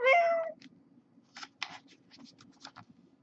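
A kitten gives one short, clear meow, followed by faint scattered clicks and rustles against a low background hum.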